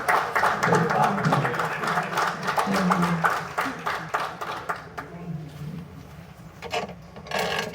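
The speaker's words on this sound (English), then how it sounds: "if we could give her a round of applause" An audience claps for a spoken word artist being introduced, a dense burst of hand claps that gradually thins and fades, with a voice murmuring underneath.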